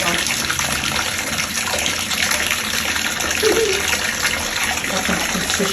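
Bath water runs steadily into a bathtub, a continuous close gushing wash that fills the whole clip without a break.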